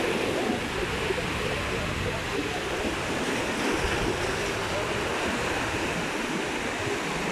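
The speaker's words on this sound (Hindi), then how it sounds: "ये अजमान का समुद्र का किनारा है, जहाँ पर समुद्र की लहरें बहुत ऊंची ऊंची आ रही हैं" High sea waves crash and wash along Ajman beach, a loud, continuous roar of surf that fills the scene throughout.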